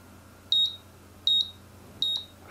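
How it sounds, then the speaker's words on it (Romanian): Three short electronic beeps from a fan controller alarm, each a quick double chirp, repeating at an even pace over a faint steady hum. "Și alarma sună"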